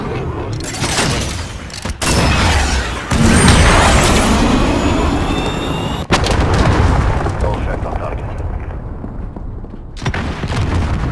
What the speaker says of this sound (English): Cruise missile ready to launch.